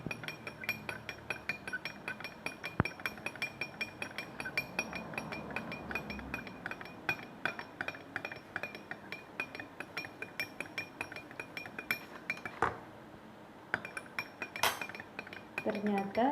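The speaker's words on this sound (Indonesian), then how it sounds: "kita akan mencoba memasukkan susu ke dalam air tersebut. Kemudian kita aduk." A metal spoon clinks steadily against a glass while stirring milk into water, a rapid run of light taps and chimes that carries on alone throughout, with a few louder clinks near the end.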